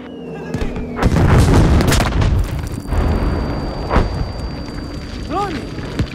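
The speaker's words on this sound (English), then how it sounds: "Grenade!" Grenade blowing up during a Battlefield 5 Conquest match, a loud close boom followed by a rumbling tail, with more battlefield blasts and gunfire, whizzing effects and shouted voices in the background.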